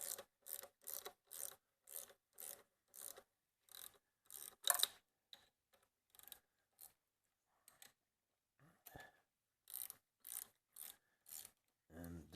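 Ratchet wrench with an E10 socket working an E10 bolt loose on a car engine during a water pump and thermostat job, a run of sharp, evenly paced clicking bursts, close by, with a short gap before the clicking resumes.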